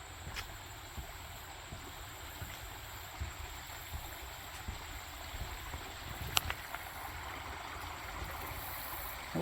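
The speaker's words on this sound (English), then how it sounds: "We got some running water." Running water from a stream beside a hiking trail on the Big Haynes Nature Trail in Conyers, Georgia, makes a steady, soft, continuous wash with no pauses. A few faint clicks and bumps sit over it.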